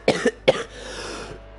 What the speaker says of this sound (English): Coughing really makes you sweat.